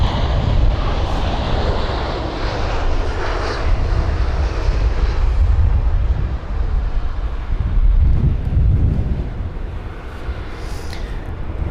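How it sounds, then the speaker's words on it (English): Airliner passing high overhead near London Heathrow, a broad steady jet roar that swells and eases over several seconds, mixed with some wind buffeting on the microphone. "I'm looking at the A340 that's currently flying over us."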